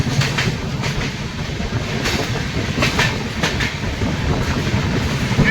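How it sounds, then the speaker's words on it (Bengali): Darjeeling Mail express train running at speed, a loud steady rumble with rhythmic clickety-clack of wheels over rail joints, heard close from inside a carriage, with no talking. "ট্রেন এখন দমদম জংশন স্কিপ করছে"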